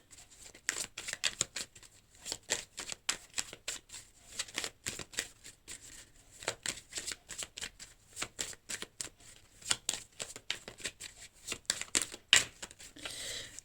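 Tarot cards are shuffled and drawn in a steady run of quick, crisp riffles and flicks, close and soft, with no voices.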